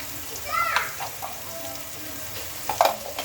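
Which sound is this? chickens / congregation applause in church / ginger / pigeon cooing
ginger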